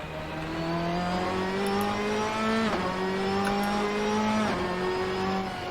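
A race car engine in the Assetto Corsa driving game revs loud and steady under sustained acceleration, with two quick gear-shift dips breaking the climbing whine, and no talking.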